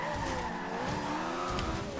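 An Ariel Atom 500 V8 brakes hard with its wheels turned in a Forza Horizon 2 race, tires squealing and skidding over the droning engine, close and continuous.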